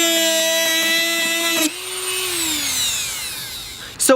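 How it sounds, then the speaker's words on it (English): Dremel rotary tool cutting a hole in a plastic fish trap, a loud high-pitched steady whine that cuts off abruptly and winds down with a falling pitch, followed by a brief clatter at the end. "we're gonna take this little Dremel right here, and we're going to cut a hole right here"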